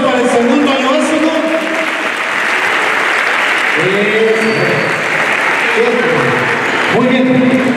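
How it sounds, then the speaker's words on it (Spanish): A school audience at Colegio de Difusión Artística Los Ulmos gives sustained, loud applause for the second-grade class, dense and steady throughout, with children's voices and shouts rising above the clapping at moments. "un aplauso entonces para el segundo año básico"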